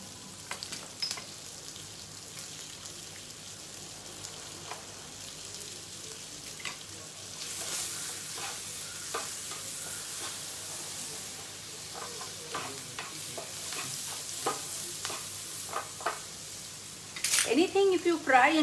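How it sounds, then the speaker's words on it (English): Soft, steady sizzling of onion frying in butter in a pan, with occasional stirring scrapes and a voice speaking near the end. "while the onion is frying."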